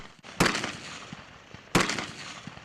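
Two sharp, loud gunshots about a second and a half apart during an Army Ranger stress shoot, each with a short echoing tail, and no talk.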